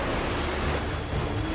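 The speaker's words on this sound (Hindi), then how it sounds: "समुद्री तूफान आ जाता है और समुद्री लहरें लगभग 40 फीट ऊंची उठकर बहुत तेज वेग में मंदिर की ओर चल पड़ती हैं" Stormy sea waves surge toward a seaside temple at Puri, heard as a steady, dense roar of surf and wind, loud and continuous with no voices.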